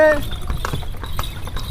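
A horse pulling a tonga cart at Rajgir, Bihar, clip-clops steadily, its hooves striking in an even rhythm, close and loud, with a voice urging it on over the top.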